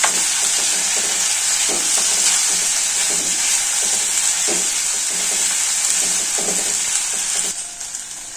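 Sliced tomatoes hit hot oil in a pan of brinjal curry, giving off a loud, continuous sizzle with a steady hiss, broken by a few scrapes of stirring, easing off right at the end.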